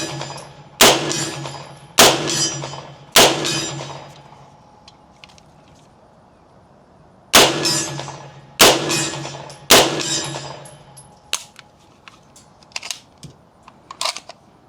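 Century AP5 pistol fired unsuppressed at a range: six sharp, loud reports in two groups of three, each ringing briefly before fading, with smaller clicks and knocks afterward.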